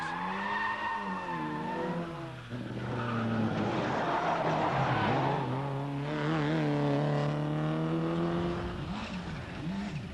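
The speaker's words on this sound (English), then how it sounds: "This may look like touring car racing, but it is in fact the first stage of the three-day Scottish rally" Rally cars roar past on the Knockhill Circuit during the 1993 Scottish Rally's first stage, engines revving and shifting pitch as they accelerate, with tires squealing, loud and sustained.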